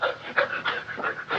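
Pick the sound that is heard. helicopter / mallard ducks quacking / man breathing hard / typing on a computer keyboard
man breathing hard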